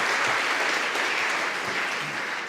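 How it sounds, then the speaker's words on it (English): Sustained audience applause after a startup pitch to investors, dense and steady clapping from a seated crowd, close and loud throughout with no voices rising above it. "Applause."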